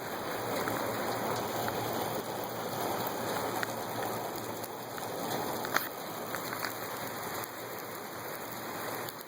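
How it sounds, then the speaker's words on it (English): Rain pours steadily during a tornado, a broad constant wash of drops hitting surfaces, with a few sharper nearby taps standing out. "now I'm getting rained on."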